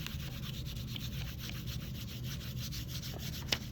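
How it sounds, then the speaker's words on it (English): A spoon rubbing the back of paper laid over an inked foam printing plate, a steady close scratchy back-and-forth rubbing with rhythmic strokes and one sharper tap near the end, no talking. "We're just going to use a spoon to rub the back here."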